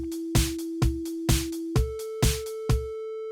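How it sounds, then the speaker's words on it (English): Triangle-wave synth notes programmed in the Strudel live-coding environment, played as seven evenly spaced plucky tones with a low thump under each, stepping to a slightly higher pitch halfway through, clean and close with no talk. "You can change it to a saw wave"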